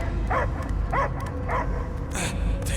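A dog in the video game Guardians of the Galaxy gives a series of short barks and yips at a steady rhythm, about four in under three seconds, over a low rumbling game background.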